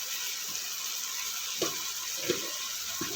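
Guava sabzi sautéing in a pan with hing and salt, a steady sizzle underneath with a few soft scrapes as it is stirred.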